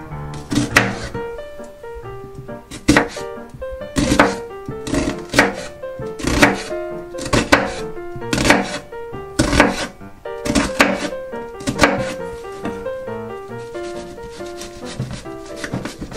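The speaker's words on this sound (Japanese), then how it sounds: "皮むいたらみじん切りにしていきます。" A knife mincing a peeled onion strikes a cutting board in quick bursts of sharp, close thuds separated by short pauses, with no voices.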